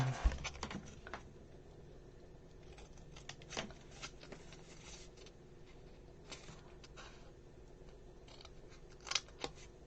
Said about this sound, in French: on va prendre une paire de ciseaux